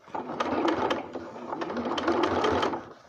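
A sewing machine stitching slowly while advanced by hand with the handwheel, a close, continuous mechanical whirr with soft rhythmic thumps of the needle.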